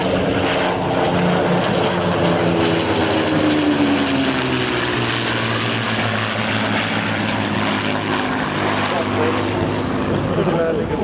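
Spitfire Mark 9 propeller fighter coming in to land at about 95 knots at an airshow: a loud, steady piston-engine drone with a slowly shifting pitch, continuous throughout, with a commentator talking over it.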